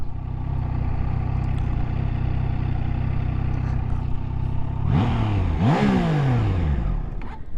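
A Triumph Trident 660 motorcycle, an A2-restricted version, idles with a steady rumble, then its engine revs up sharply twice in quick succession, close and loud, before dropping back to idle.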